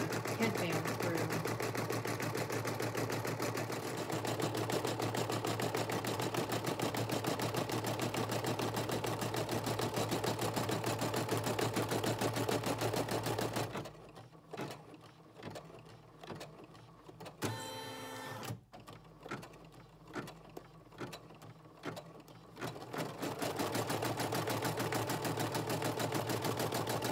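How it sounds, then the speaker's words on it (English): A sewing machine stitches a small casing seam on a fabric headband, running in a steady, close mechanical whir that stops for several seconds midway and then resumes. "it's gonna stitch another little seam that's going to form the casing for you to slide the headband through"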